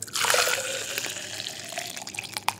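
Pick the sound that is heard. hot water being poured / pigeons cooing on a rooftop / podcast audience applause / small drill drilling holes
hot water being poured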